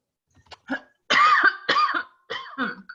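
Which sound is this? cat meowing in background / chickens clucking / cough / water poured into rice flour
cough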